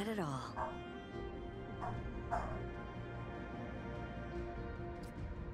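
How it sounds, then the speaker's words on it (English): Dogs in the video game Remnant 2 bark and yip in several sharp bursts over a constant game soundscape, fairly faint, with a whimpering tone at the start. "dogs just went absolutely crazy for no reason"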